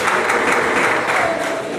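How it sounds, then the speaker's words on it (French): Loud, dense applause from an audience greeting dignitaries at a morning presentation in Sinfra, a continuous close roar of clapping throughout. "On peut les applaudir, mesdames et messieurs"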